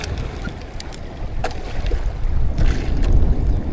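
A boat rides rough waves at sea on the Pacific Ocean off Surigao, with continuous rumbling water and wind buffeting that swells louder toward the end, plus a few splashes.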